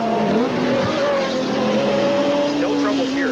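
IMSA GTP prototype race cars from 1986 roar past at Lime Rock, a continuous loud engine drone with shifting pitch as one car overtakes another, faint tire squeal mixed in, with a commentator talking over it.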